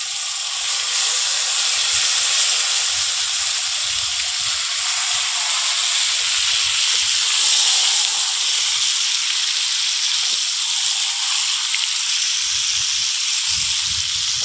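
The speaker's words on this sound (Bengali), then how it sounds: "এবার ম্যারিনেট করে রাখা মাংসগুলো দিয়ে দেব" Marinated chicken pieces hitting hot oil tempered with cumin seeds and bay leaf, giving a steady, loud, continuous sizzle and hiss that holds for the whole stretch with no voices.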